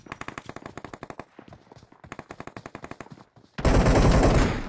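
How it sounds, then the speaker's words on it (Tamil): Automatic gunfire in the mobile game BGMI rattles off in rapid bursts, a sharp rhythmic burst, a short pause, another burst, then a loud dense roar of fire at the end, with no talking. "ஐயோ இப்ப புல்லட் வந்துச்சு பாத்தியா?"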